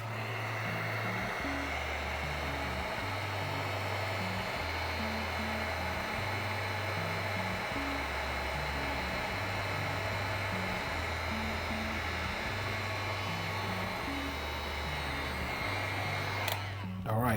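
A heat tool blows a steady hot-air roar while painting a Roman soldier figure, loud and continuous with a low pulsing hum underneath, cutting off near the end.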